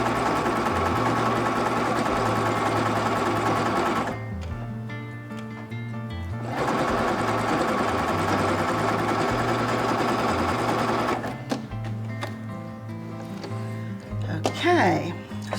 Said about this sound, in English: And then let's sew.